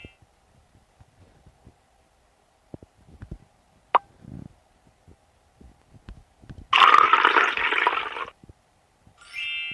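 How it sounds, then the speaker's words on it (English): A balloon's air forces water out of a bottle through a straw into a glass, heard as a loud gushing splash lasting over a second, preceded by small clicks and taps and followed by a brief hiss. "The air in the balloon pushes the water out, creating your own water pump."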